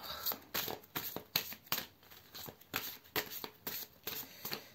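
A deck of tarot cards is shuffled by hand close up, producing a rapid series of crisp riffling bursts in a quick, regular rhythm with no speech.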